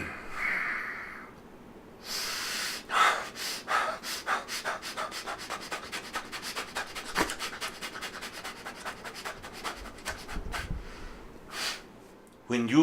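A meditation teacher demonstrates a quick, higher breathing technique as a long run of rapid, rhythmic breaths, close and fairly soft, continuing steadily for about ten seconds after an opening pause.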